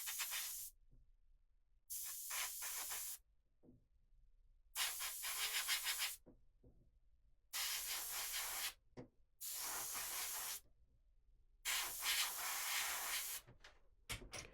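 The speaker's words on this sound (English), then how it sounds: "I sometimes like to use my airbrush to hasten the drawing process." An airbrush sprays paint onto a custom marble-effect model base in a series of steady hissing bursts, each lasting about a second, separated by short silences and heard close up.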